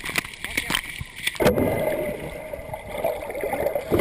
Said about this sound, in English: He hits the water over and over with a stick